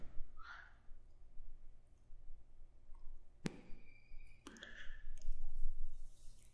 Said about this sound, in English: we click the next button